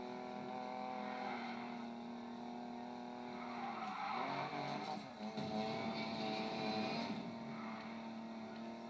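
A race car engine drones in Need for Speed Payback, a steady high-pitched whine that shifts as the car accelerates mid-way, with a brief dip and surge, faint and continuous, no voices.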